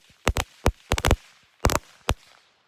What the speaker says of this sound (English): do these little firecrackers right over here